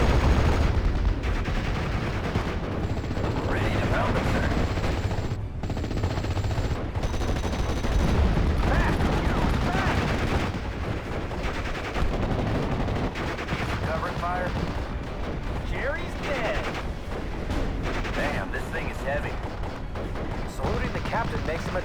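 Dense gunfire and thudding mortar and artillery blasts rage continuously across a Normandy 1944 battlefield in the Steel Division strategy game, loud and layered, with a voice calling out over the barrage.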